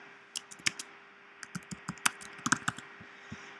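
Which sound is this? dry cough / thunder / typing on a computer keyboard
typing on a computer keyboard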